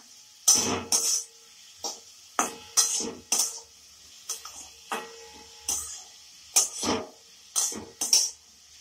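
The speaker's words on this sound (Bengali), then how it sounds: "ভালো করে মিশিয়ে দেব নুনটা" Salted onions being stirred in a kadai over a low-medium flame, with a series of sharp metallic scrapes and clinks of the spatula at an irregular pace, close and clear.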